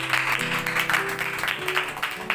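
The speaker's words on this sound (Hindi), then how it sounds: "चलो बाजी मीरा ने तालियां मारो, पता लग गया। जोरदार तालियां।" Loud, dense clapping from a crowd at a gathering, sustained for a couple of seconds over a steady tonal drone of music underneath.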